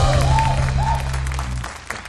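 Congregation clapping together at a youth church worship service, a broad clatter of hands over a low sustained organ or keyboard drone, with a faint voice in the background, fading slightly toward the end.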